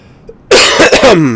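A single loud, harsh cough bursts out close by, followed by a raspy, trailing exhale.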